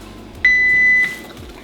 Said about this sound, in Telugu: టైమర్